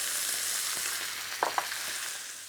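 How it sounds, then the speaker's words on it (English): Dry sherry hits a hot pan with sultanas to deglaze, giving a soft, even sizzle with a couple of sharp clinks from a utensil midway. "And to deglaze, some sherry."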